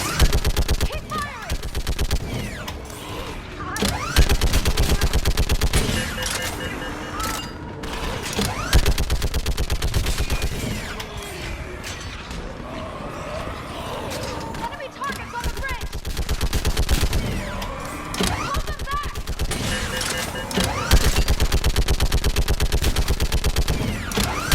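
Gunfire in the Mass Effect 3 video game rattles almost without a break for about 25 seconds, with loud rapid bursts and heavier impacts layered together, while voices shout over the battle.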